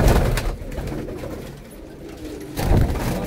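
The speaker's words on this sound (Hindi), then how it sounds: "आ बहुत अच्छा कबूतर है जी" Rampuri pigeons coo in low, rolling bursts, louder at the start and again near the end, with a softer stretch between; no one speaks.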